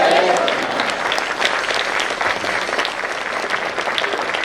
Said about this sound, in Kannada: ಅವರಿಗೆ ನಾವೆಲ್ಲರೂ ಎದ್ದು ನಿಂತು ಜೋರಾದ ಚಪ್ಪಾಳೆಯೊಂದಿಗೆ ಅಭಿನಂದನೆಗಳನ್ನು ಸಲ್ಲಿಸೋಣ